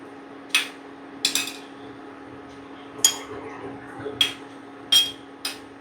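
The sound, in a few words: hot fried gulab jamun dropped into sugar syrup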